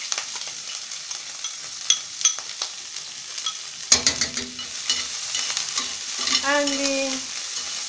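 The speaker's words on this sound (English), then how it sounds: "My frying pan is very hot right now" Red herring fries in hot oil in a frying pan on the stove, with a steady sizzling hiss and occasional clinks and spatters of the fish being moved. A brief spoken word comes near the start.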